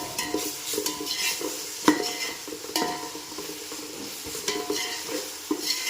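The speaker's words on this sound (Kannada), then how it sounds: "ಇದಕ್ಕೆ ಇವಾಗ ಶುಂಠಿ ಬೆಳ್ಳುಳ್ಳಿ ಪೇಸ್ಟ್ ಹಾಕ್ಕೊಳ್ಳಿ. ಸ್ವಲ್ಪ 1 ನಿಮಿಷ ಫ್ರೈ ಮಾಡ್ಕೊಳ್ಳಿ." Ginger garlic paste and onions fry in a pan as a spoon stirs them, a soft sizzle broken by repeated scraping and clinking strokes against the metal, fairly close.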